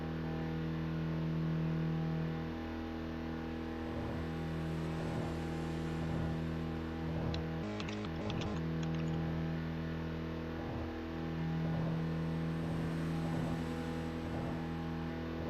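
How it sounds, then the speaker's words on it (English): A car engine in the racing video game Tokyo Xtreme Racer hums steadily at low volume, its pitch rising and falling in gentle revs, with a brief burst of clicky interference midway and no voices. "there's different pitches in regards to the vehicle engine sound"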